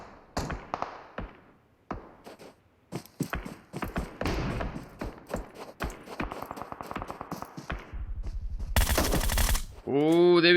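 Gunfire from a PUBG Mobile esports league match: rapid bursts of shots and thuds, then a dense sustained burst near the end, with a caster's voice over much of it.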